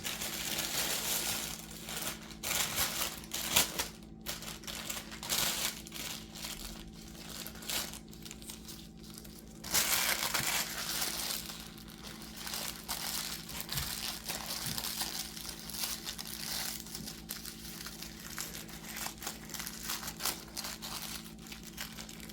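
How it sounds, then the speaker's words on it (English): Continuous crinkly crunching close by, steady and fairly loud throughout with brief bursts and pauses, no talking. "excuse the crunching sound"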